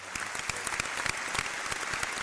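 Brief applause from a small group, scattered claps with a steady, moderately quiet patter.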